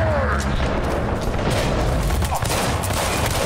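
Rapid gunfire from a shooter in the video game Cyberpunk 2077, a dense continuous burst of shots and booms filling the scene at close range, with a faint voice underneath.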